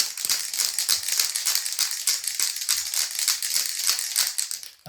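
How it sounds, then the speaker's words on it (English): A spray paint can of white paint is shaken hard while painting a Tamiya 1/10 scale Porsche 956 model. The mixing ball rattles in a fast, steady rhythm, close and continuous for several seconds. "So I'm going to shake the crap out of this."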